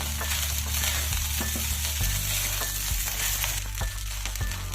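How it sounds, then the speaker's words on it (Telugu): Garlic egg fried rice sizzles hard in a pan over high heat, a steady loud crackle broken by repeated scraping stir strokes about once a second, with no voices. "ఇదిగోండి రైస్ వేసుకుని హైలో పెట్టుకుని ఒక్క 1 మినిట్ బాగా ఫ్రై చేశానండి"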